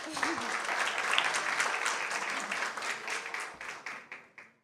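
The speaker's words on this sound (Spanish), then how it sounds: "Otro aplauso, por favor." An audience at a law conference panel applauds steadily, then the clapping thins out into a few scattered claps and fades.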